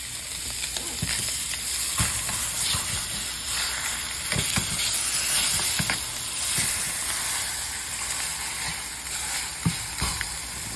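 T-bone steaks sear on a hot grill, a steady close hiss and sizzle with scattered sharp pops and crackles, while someone talks intermittently over it.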